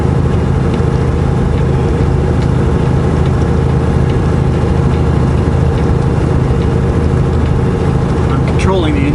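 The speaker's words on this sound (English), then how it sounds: "Yes, I am using engine brakes." A truck's engine brake drones steadily and loud, a low continuous rumble as the truck creeps slowly along a snowy road in a snow storm, with someone talking over it.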